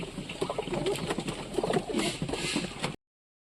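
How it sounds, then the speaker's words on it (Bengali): Pigeons coo steadily while feeding together outdoors, with soft overlapping calls and faint rustling close by throughout, no voices present. "কত সুন্দরভাবে খাচ্ছে সব কবুতরই খাচ্ছে"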